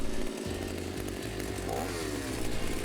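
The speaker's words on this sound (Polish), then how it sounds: "Jedziemy ze świdrem dalej." A motorized earth auger drills holes in the ground while preparing to build a terrace, giving a loud, steady, buzzing engine drone with a rough low rumble that holds without pause throughout.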